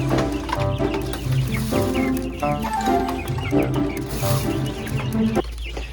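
Chicks and hens clucking and chirping while being fed wheat porridge, a busy cluster of close, overlapping bird calls and soft pecking with some background noise throughout.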